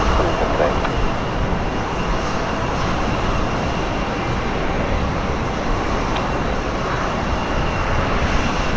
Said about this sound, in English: the British Airways 787 has landed